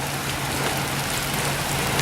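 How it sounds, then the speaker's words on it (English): Heavy rain pours down in a dense, steady hiss on a terrible day, constant and loud from start to finish, with a faint low hum beneath and no voices. "just because it's apparently never going to stop raining or snowing."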